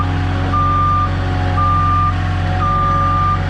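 A truck delivering 12-foot sheetrock backs up with its reversing alarm sounding three steady, evenly spaced beeps, loud and close over a constant engine drone.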